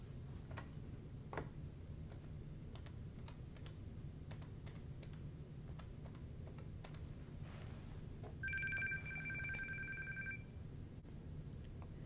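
Button presses on an NEC SV9100 office phone while a call is placed, a soft run of clicks over a steady low hum, then a clear two-pitch tone holding for about two seconds before cutting off.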